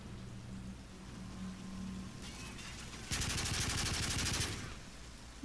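Bursts of rapid automatic gunfire from Call of Duty Modern Warfare 3 play over a low game backdrop, building to one loud, dense volley near the end before cutting off.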